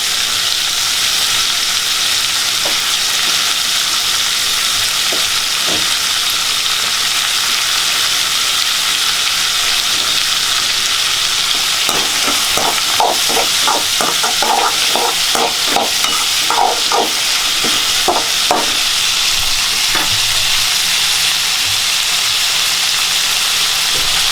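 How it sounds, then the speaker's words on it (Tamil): Chopped tomatoes hit sautéed onions in a hot pan for a vallarai chutney, a steady loud sizzle with clattering stirring strokes in the middle, no voices. "வெங்காயம் நல்லா வதங்கினதுக்கப்புறம் நம்ம அப்புறம் தக்காளி போடலாம் நான் இப்போ தக்காளியை ஆட் பண்ணுறேன்"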